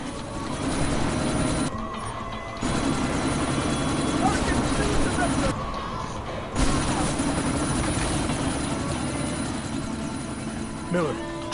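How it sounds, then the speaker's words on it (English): A helicopter in the video game Deus Ex: Mankind Divided gives a steady rotor and engine drone during a sandstorm, broken by brief drops, with voices talking over it. "you need to disable that chopper"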